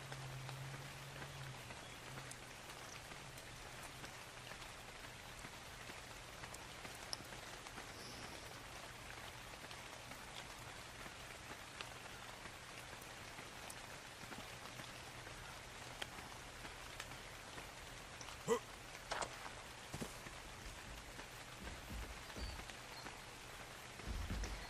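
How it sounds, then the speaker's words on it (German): Rain falls in the video game Ark Survival Evolved as a soft, constant hiss of drops on surfaces, with an occasional louder patter. "Es regnet."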